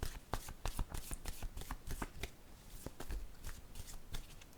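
Word cards are handled, drawn and laid down on a table, giving a quiet run of crisp, irregular flicks and soft taps close by.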